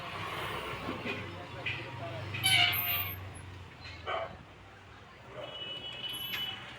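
Several cats meow while being fed yogurt and rice on a rainy day, giving a few short cries between quiet stretches, mixed with low voices and background rumble.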